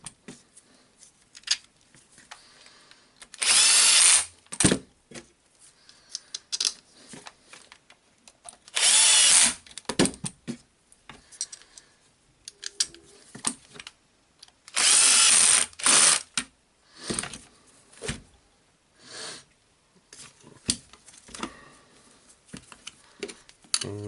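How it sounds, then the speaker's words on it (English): A cordless power tool drives screws back into a Dewalt DCS331 jigsaw during a repair, three loud whirring bursts separated by quiet pauses filled with small clicks and handling taps. "Of course, tightening the screws back."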